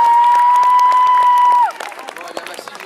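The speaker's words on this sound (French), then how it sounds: "on l'applaudit" A crowd claps and cheers as a sustained electronic tone plays, then the tone cuts off and the scattered clapping continues more quietly.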